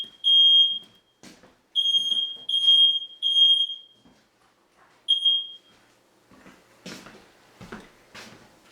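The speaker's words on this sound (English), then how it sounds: "But the smoke alarm is going off." A smoke alarm in a micro apartment shrieks in repeated loud, high electronic beeps, some long and some short, while plastic is being melted, followed by rustling and handling noises.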